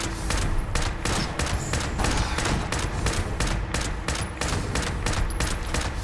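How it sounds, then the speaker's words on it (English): A combat rifle in Fallout 76 fires a sustained barrage of loud, evenly spaced shots, rapid and continuous throughout with no talking. "Let's change over to the combat rifle"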